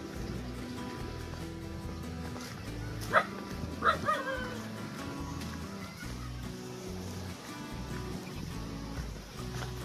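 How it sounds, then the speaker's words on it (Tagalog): A dog barks a few times, one sharp bark followed by a quick pair, fairly close, against a rough, rumbling background of rough sea waves at a beach. "Ayun, sumalubong na agad ang aso."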